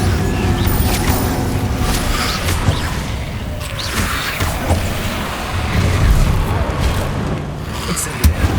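Booming, whooshing bursts of the Incendio fire spell cast repeatedly in Hogwarts Legacy, loud and continuous with rumbling low end and crackling impacts throughout.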